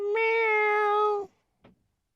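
A cat gives one loud, sustained meow lasting about a second, followed by a brief faint sound and then quiet.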